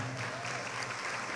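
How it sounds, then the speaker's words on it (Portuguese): Evangelical church congregation clapping together during a service, a soft steady wash of many hands with a faint sustained tone beneath. "E toda a igreja tome seu assento aplaudindo a Jesus"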